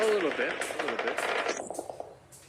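Rapid Uzi gunfire in a PUBG Mobile esports match, a quick run of sharp shots near the end, heard under an excited commentator's voice.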